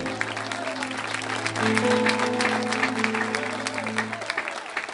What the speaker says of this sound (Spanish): Dele un fuerte aplauso al Señor esta tarde.